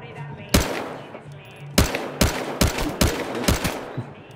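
Gunfire in the Battlefield Hardline video game: a series of loud, sharp shots, one near 0.5 s and then a rapid cluster of about five more, ringing over a low game-ambience background.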